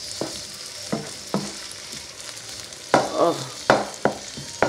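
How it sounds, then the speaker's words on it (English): Ground turkey fried rice frying in butter in a pan sizzles steadily while a utensil scrapes and stirs in irregular strokes, close and loud, with a brief exclamation from a person. "So now what I'm doing, I'm actually frying the rice in butter."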